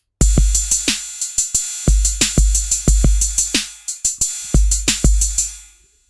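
A punchy electronic drum machine beat using a 606 kit, with deep kicks, crisp snares and ticking hi-hats, loops in a steady pattern, then fades out at the end.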